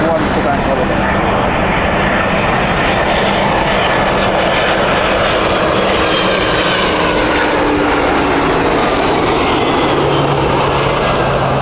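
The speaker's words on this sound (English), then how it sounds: "to see DHL with the Airbus A300s." A DHL Airbus A300 cargo plane at Heathrow gives a loud, sustained engine roar with droning tones that slowly shift in pitch as it passes close by. A voice speaks over the noise.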